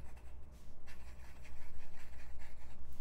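A Kakimori pen nib loaded with Sailor fountain pen ink scratches across paper in quick, rhythmic strokes, each one a close, crisp swish repeating steadily with no voices.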